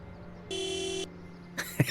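A car horn in the Back to the Future video game gives one steady honk of about half a second, followed by a second short blare and a small thump, with faint background ambience.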